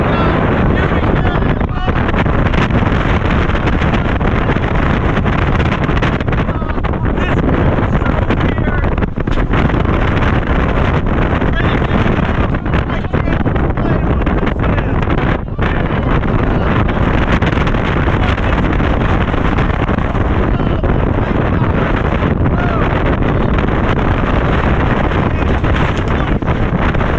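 Loud, steady wind roaring past riders on Hyperia, the tallest roller coaster in England at Thorpe Park, a continuous blustery rush filling the whole ride with shouting voices underneath.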